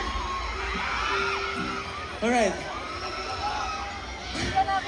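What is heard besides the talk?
concert crowd screaming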